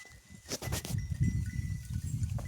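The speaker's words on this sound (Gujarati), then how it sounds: "બકરા બધા લેબડો ખાઈ રહ્યા છે" Goats feed on leafy branches in a village field, with a steady close rustle and chewing under faint bleats and a brief clatter near the start.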